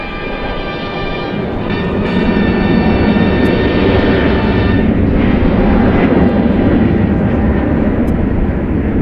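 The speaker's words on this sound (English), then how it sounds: "18 left, clear for takeoff" A jet airliner takes off at night at Dallas Fort Worth International Airport, its engine roar loud and steady throughout, swelling slightly after the first couple of seconds.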